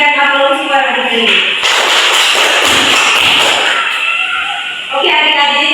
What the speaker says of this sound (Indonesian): Silakan memberikan aplaus kepada Ibu.